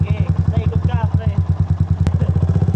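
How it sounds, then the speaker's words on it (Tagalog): A motorcycle engine runs roughly, as if straining, with a steady, fast chugging pulse throughout. Voices talk over it. "Kasi yung makina nahihirapan pa eh."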